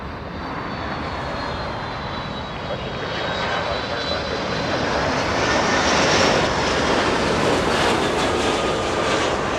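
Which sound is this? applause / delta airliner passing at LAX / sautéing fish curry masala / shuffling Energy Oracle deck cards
delta airliner passing at LAX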